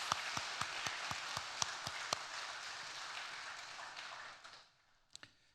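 A church congregation at a children's school dedication service applauds. The dense clapping has a few sharp, close claps on top, then fades out, and a couple of last claps follow.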